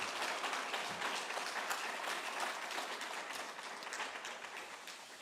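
A church congregation applauds a children's choir after their hymn, a steady wash of clapping heard from some distance that holds for several seconds and slowly thins.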